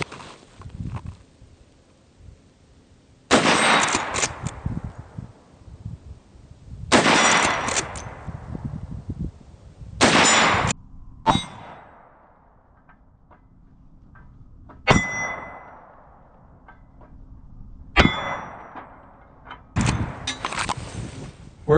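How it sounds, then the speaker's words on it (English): Shots from a Marlin 1894 .357 Magnum lever-action rifle fired offhand at a steel plate 50 yards away, roughly seven loud, sharp reports spaced a few seconds apart, each followed by a ringing clang and a fading echo, with no talking. "So let's try offhand on a steel plate at 50 yards."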